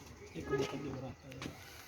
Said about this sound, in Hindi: ये काला कबूतर है जी मेरा माशाल्लाह